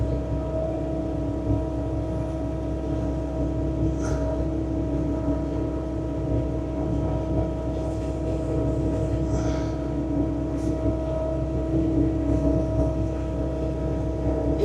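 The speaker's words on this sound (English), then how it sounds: "you can actually angle the chute where it's blowing snow behind the machine" A track loader fitted with a snow blower drones steadily while throwing snow in a winter storm near Buffalo, a constant low engine and fan roar with no talk.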